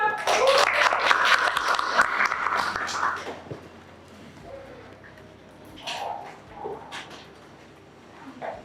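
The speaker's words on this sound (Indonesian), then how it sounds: "Tepuk tangan sekali lagi dong" A classroom of students claps together in a dense burst for about three seconds, then the applause stops and a few faint sounds and murmurs follow in a quiet room.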